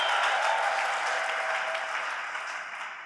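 Congregation applauding in a Pentecostal church service, a dense, steady wash of clapping that stays loud throughout and eases only slightly toward the end.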